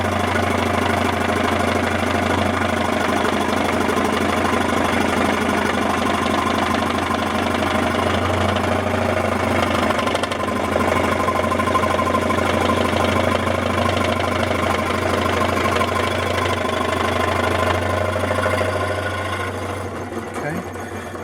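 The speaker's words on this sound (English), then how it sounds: "Here's my trusty old scroll saw here." An old scroll saw cuts through a wood branch being shaped into a flute, its motor buzzing in a steady, loud, continuous drone with a faint rhythmic rattle that fades slightly near the end.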